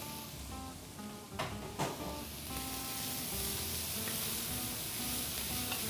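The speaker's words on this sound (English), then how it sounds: "So what I like is to put a little bit of color on the onions and the celery" Onions, celery and red peppers sautéing in a pan for a vegan ratatouille salsa, a steady close sizzle with a couple of sharp stirring scrapes early on.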